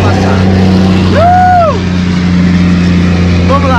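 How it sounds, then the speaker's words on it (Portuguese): A truck passes by on the road, a loud, steady low engine drone with a tone that rises and falls as it goes by. "Deixa o caminhão passar."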